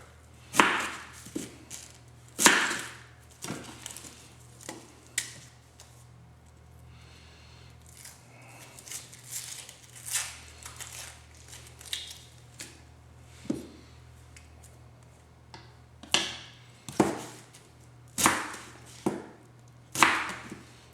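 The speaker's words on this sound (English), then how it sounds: "Then we're going to chop up our onion." An onion is chopped with a knife on a board, a series of crisp close chops coming in uneven bursts with short pauses between them, alone and without talk.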